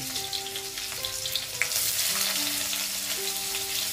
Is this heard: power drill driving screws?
no